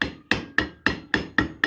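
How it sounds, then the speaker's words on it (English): A hammer beats metal parts laid on a brass block, striking seven sharp, ringing blows at an even pace of about four per second. Each hit is loud and close and decays quickly into a short metallic ring. "put them on this brass block here and beat the snot out of them with a hammer"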